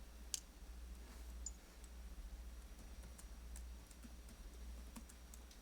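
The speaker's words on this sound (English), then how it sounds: "Don't mind my typing. Typing kind of fast." Rapid keystrokes click on a computer keyboard in a quiet room during a planning board meeting, the typing soft and fairly steady over a low electrical hum, with no one speaking.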